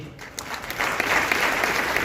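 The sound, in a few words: audience applause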